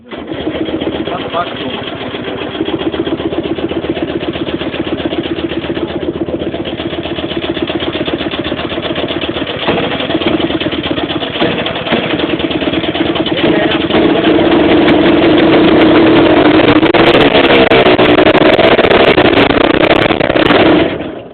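A DT-75 tractor engine runs loud and steady for about twenty seconds, a continuous rough mechanical drone with people talking over it.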